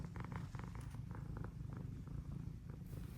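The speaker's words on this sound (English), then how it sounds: "But listen to that purr." A cat purring close by, a soft, steady rhythmic rumble with gentle pulsing breaths, quiet and continuous with no talking.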